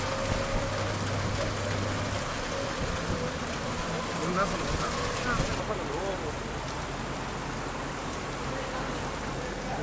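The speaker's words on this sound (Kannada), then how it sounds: "ಇಲ್ಲಿ ನೋಡ್ರಿ ಇಲ್ಲಿ ಎಷ್ಟು ಮಸ್ತ್ ಮಳೆ ಸ್ಟಾರ್ಟ್ ಆತ." Rain falling on a street in Kanpur, heard from inside an auto-rickshaw as a loud, dense, continuous wash of patter with traffic rumble underneath.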